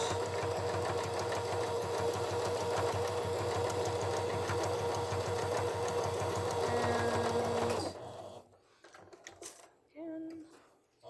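A sewing machine stitches steadily for several seconds, then stops as the needle is left down to pivot at a corner, leaving a few soft clicks and handling noises; a voice talks over the stitching.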